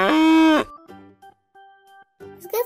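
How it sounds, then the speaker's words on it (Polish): A cow moos once, a loud, low drawn-out call, followed by quieter tonal tones and a brief rustle. "Zgadza się, to jest krowa."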